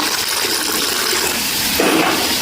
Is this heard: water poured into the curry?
yes